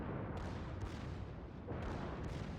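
Battleship main and secondary guns firing in World of Warships, a dense, continuous rumbling barrage of heavy booms with no clear gaps between shots, steady and loud throughout.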